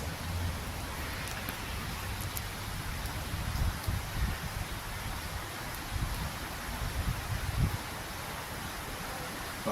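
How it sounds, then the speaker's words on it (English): Steady rain falling outdoors, a dense continuous hiss with scattered patters and occasional louder drops, moderately loud with no one speaking. "It's beginning to rain."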